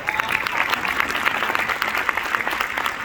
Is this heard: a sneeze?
no